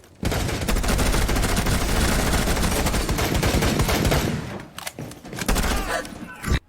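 Sustained automatic gunfire in Rainbow Six Siege, a video game, with a loud unbroken burst of rapid shots for about four seconds, then scattered thuds and a final shot.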